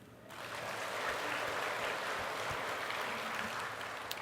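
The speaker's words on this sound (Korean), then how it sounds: "박수 한번 해요" A church congregation applauding during a Sunday sermon, a steady, dense wash of clapping that swells in quickly and holds evenly throughout.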